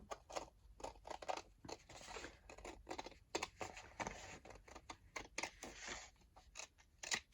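Scissors cut paper for a craft close up, making a quick run of crisp snips and rustles at an irregular rhythm, alone and fairly quiet.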